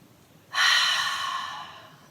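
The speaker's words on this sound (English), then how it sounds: "Breathe in and sigh out through the mouth." A single deep breath drawn in and released as a long, soft sigh through the mouth. It is close and alone, fading gradually over about a second and a half.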